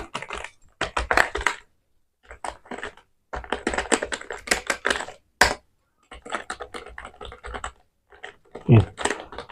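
Clicky bursts of typing on an Elista WK 710 computer keyboard, rapid key presses in short runs separated by pauses, close and distinct.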